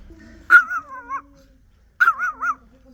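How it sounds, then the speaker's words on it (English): Guard dogs near a cluster of houses in the countryside around Antequera, Spain, bark and yelp in two short, loud bursts separated by a pause of silence. "The guard dogs is there."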